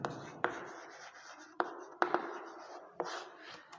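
Pen scratching across paper while writing out an equation for a circle math problem, soft continuous scribbling punctuated by several sharp taps and strokes, close and quiet with no talking.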